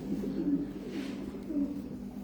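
Pigeons coo softly at close range, a few low rolling calls repeating under faint background chatter.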